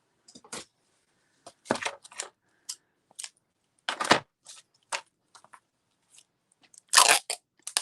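Scissors cutting material for a collage printing plate, a series of short crisp snips and crunches, irregularly spaced with a few louder cuts, close and alone in a quiet room.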